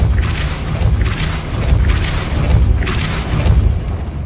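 Repeated Depulso force spells cast in Hogwarts Legacy, four booming whooshes with bright bursts spaced about a second apart over a rumbling background.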